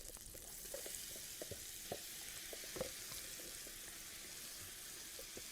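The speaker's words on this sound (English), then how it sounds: "we're going to saute the vegetables just a little bit" Vegetables sautéing in a pan, a faint, even frying hiss dotted with soft scattered stirring clicks and taps, quiet and steady throughout with no talking.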